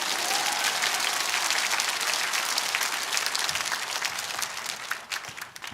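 A crowd at a political rally claps loudly and continuously, a dense, even roar of hands that carries through the entire span and tapers just at the close.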